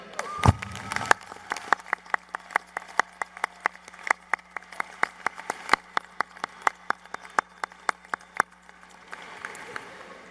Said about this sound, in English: Please join me now in personally thanking and applauding each of you who have served, serve, or will serve as an educator